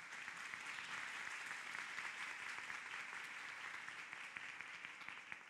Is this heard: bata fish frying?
no